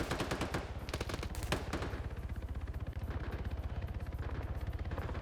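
Rapid automatic gunfire rattles continuously in a multiplayer PvP shooter game, a dense stream of sharp close shots with a few heavier bursts early on, steady and loud throughout.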